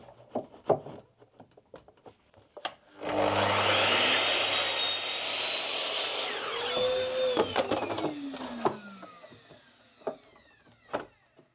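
A power saw cuts a piece of hardwood to size for a laser-cut door hanger backer, a loud sustained whine of several seconds bracketed by quieter knocks and handling clatter.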